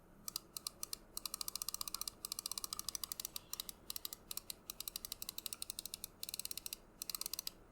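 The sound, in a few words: Razer Viper Ultimate mouse button 1 clicks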